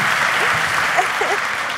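Studio audience applause on a Turkish talk show, a brief, even burst of clapping with faint voices mixed in.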